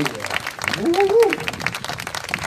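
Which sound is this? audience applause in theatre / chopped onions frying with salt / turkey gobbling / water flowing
audience applause in theatre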